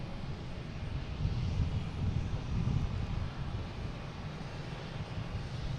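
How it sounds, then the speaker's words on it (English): A Delta Boeing 757-200 sits lined up on the runway at Boston Logan, its engines giving a steady, moderately distant low rumble that wavers slightly in level throughout. "We have a Delta lined up on 9, heading to LAX, a 757-200,"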